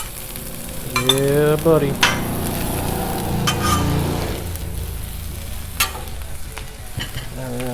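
Onions and butter sizzling on a Blackstone griddle, a close, steady frying hiss with scraping spatula strokes, under brief speech.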